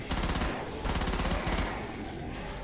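An FN FAL rifle fires rapid full-auto bursts in the video game Killing Floor, loud, dense cracking volleys in two or three runs with brief gaps.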